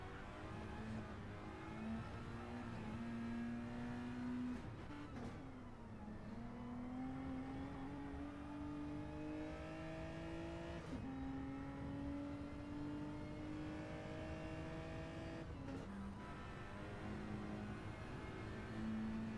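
Suzuki Swift race cars lapping a track in a racing video game, a steady engine drone with rising and falling pitch as the revs climb and drop through gear changes, loud and continuous with no talking.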